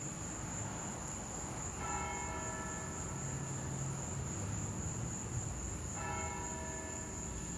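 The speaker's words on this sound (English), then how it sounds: "Bells." Church bells ring at night in two clear bursts, around two and six seconds, over a steady hum and background noise with a faint high whine; crickets may be present.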